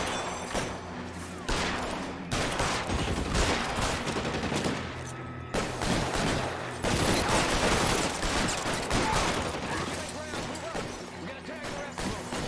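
Bursts of rapid gunfire in the video game L.A. Noire, loud repeated volleys and machine-gun rattles separated by short pauses, with game sounds and voices mixed in.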